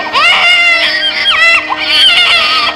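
A voice imitates a newborn baby's wailing cry, loud and close, in several rising and falling high-pitched bursts during a devotional storytelling recital.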